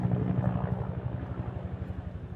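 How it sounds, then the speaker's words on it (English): A helicopter flies close overhead: low, throbbing rotor chop with steady engine drone, loud and close, pulsing rhythmically throughout. "That's a helicopter. It sounds really close."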